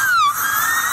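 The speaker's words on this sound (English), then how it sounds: "That is a dental drill." A recording of a dental drill plays, a loud high-pitched whine that glides downward then holds steady, brief and sharp with no voices over it.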